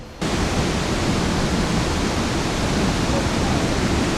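Huai Narok waterfall roars as a steady, dense rush of falling water, loud and continuous from just after the start with no pauses.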